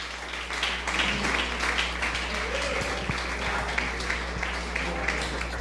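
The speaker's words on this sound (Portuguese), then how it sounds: "Você pode aplaudir ao Senhor?" A church congregation bursts into dense, continuous applause that stays fairly even throughout, with a low steady hum running underneath.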